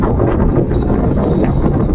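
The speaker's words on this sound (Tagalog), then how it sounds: "nakakabingi sa sobrang lakas ng hangin" Strong northeast monsoon wind buffets the microphone outdoors, a loud, constant low rumble throughout.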